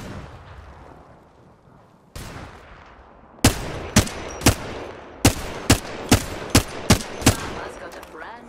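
Gunfire in the Apex Legends video game: a series of sharp, loud, evenly spaced shots, about ten in quick succession, over a low background hum with a brief earlier thump.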